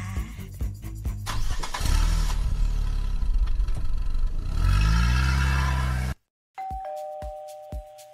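Car engine cranks and starts, then revs and runs as the car drives off, loud and close. A short silence follows, then a steady electronic chime with a few clicks.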